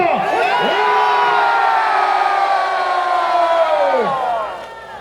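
A large crowd at a political rally shouts together in one loud, sustained roar of voices that holds for about four seconds before trailing off.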